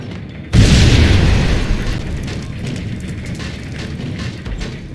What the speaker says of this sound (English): And throw this grenade.